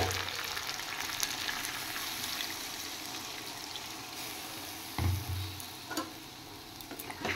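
Water goes into a sizzling, fried-down spiced curry in a pan: a dense, continuous hiss runs throughout, with a brief louder bubbling surge and a few faint clinks near the end.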